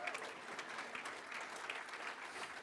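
An audience at an awards ceremony applauds steadily, a dense even patter of many hands clapping throughout with no break, heard from within the hall.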